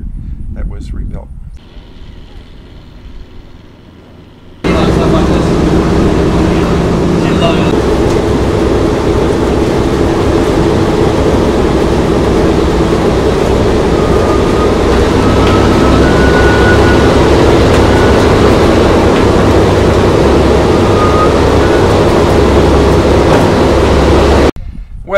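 A B-17 bomber, one of its engines freshly rebuilt, runs with a loud, steady low roar at close range for over twenty seconds, preceded by a quieter stretch, with speech faintly mixed in.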